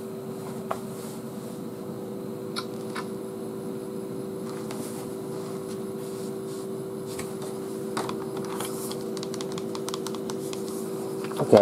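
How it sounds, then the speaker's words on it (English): Computer keyboard typing heard as scattered light key clicks over a steady low hum, with occasional sharper taps near the end and no voices. "Do I have to use a keyboard to do that?"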